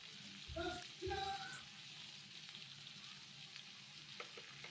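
Potato pieces fry quietly in a pan of oil with a soft continuous sizzle, while a couple of brief clinks of a utensil sound near the start.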